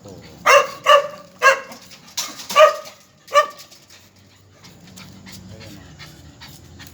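Pet dogs being fed, giving a few short sharp yips and barks in quick succession, then a low murmur of voices and background noise.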